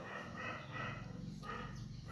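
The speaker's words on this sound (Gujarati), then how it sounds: "કૂતરા તને નથી બસતા બેટા બહાર બસે છે" A dog outside barks and whimpers in short, faint, distant bursts over a low, steady background.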